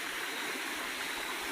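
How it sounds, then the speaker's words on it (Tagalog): Steady broadband rush of flowing water near a rocky gold-bearing stream site, constant and close with no pauses or talk. "Tubig na dyan, oh, tubig."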